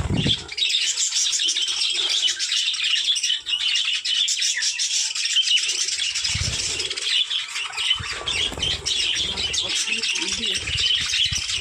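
Pet birds in a home bird house chirp and squawk in a dense, continuous chorus, with bursts of wing flapping close by partway through.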